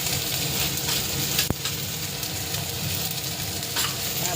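Food frying in a pan with salt and turmeric powder, a dense steady sizzle with stirring scrapes throughout and one sharp tap of the utensil midway.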